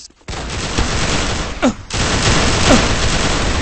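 Rapid gunfire in a team shooter video game, a dense loud burst of automatic shots sustained for a few seconds with brief interruptions and a couple of sweeping effect sounds.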